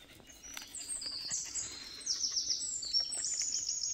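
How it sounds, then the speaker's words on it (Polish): Small birds chirping and trilling in a damp pine forest in spring, high bright calls repeating over a soft steady outdoor hush, moderately distant. "ptaszki śpiewają"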